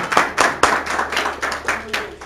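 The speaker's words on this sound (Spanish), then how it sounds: "es para Dios el aplauso" A church congregation claps for God during a pastor's sermon, a handful of separate sharp bursts of applause in an irregular rhythm, fairly loud and close.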